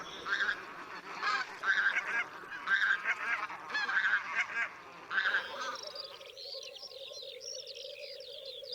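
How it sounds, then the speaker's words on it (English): A flock of bean geese and white-fronted geese honks repeatedly in a steady rhythm, fairly distant, before the calls give way to softer, scattered cackling, in marshland of the Warta River National Park, Poland. "the last bean geese and white-fronted geese migrate to northern Scandinavia and Russia for nesting"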